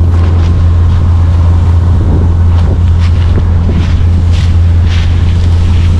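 Combine harvester harvesting corn during a Romanian harvest, a steady loud engine drone that runs unbroken throughout, with wind buffeting the microphone and no voices.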